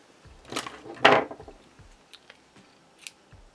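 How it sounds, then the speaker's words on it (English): Scissors snip through crochet yarn with two crisp, close cuts, followed by faint handling clicks and rustles in an otherwise quiet room. "cut the yarn"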